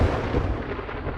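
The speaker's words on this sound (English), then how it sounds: "Wow, that thunder sure does sound ominous." Thunder rolls in the video game 7 Days To Die, a loud, deep, rumbling boom that starts strong and slowly fades across the short stretch.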